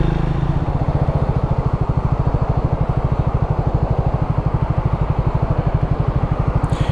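A Triumph Speed 400 motorcycle engine runs steadily under way, its rapid low firing pulses loud and close throughout with no talk.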